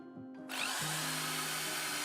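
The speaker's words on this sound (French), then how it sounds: "Nous avons fait provision de différentes brosses métalliques pour une perceuse afin de finir de poncer le fer" Electric drill fitted with a wire brush spins up and grinds rust off an old iron, a steady close, loud abrasive whir after a brief start.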